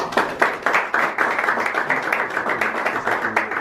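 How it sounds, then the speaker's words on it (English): A small Toastmasters club audience gives a round of applause at a meeting, steady close clapping with individual claps audible, lasting a few seconds. "So let's please give a warm round of applause."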